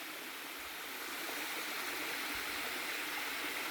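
A small stream rushes steadily at a crossing on the Bruce Trail in Canada, a broad, even hiss of water that stays constant and fairly faint, with no voices.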